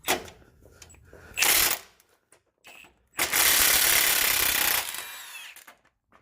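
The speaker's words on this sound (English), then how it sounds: "I got my 21 socket impact gun." Impact gun with a 21 socket removing a bolt while swapping air ride shocks for coil springs on a 2005 GMC Yukon Denali XL, with a short loud rattling burst followed by a longer sustained hammering run, close up.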